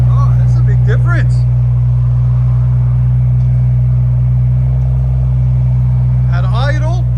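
A 2017 BMW 740i with a 3.0L turbo inline-six and muffler delete idles with a loud, steady low exhaust drone, while people talk briefly near the start and again at the end.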